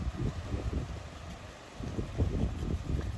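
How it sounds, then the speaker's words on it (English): Strong wind buffets a microphone outdoors by a fence where brisket is being smoked, a rumbling low roar that rises and falls in gusts, easing briefly before surging again. "what you can't see behind me is just how windy it is"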